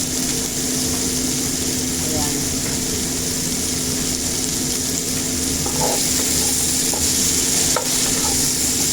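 Flat beans sizzling and being stirred in a hot pan, a steady frying hiss with occasional scraping of the utensil, continuous and fairly close throughout.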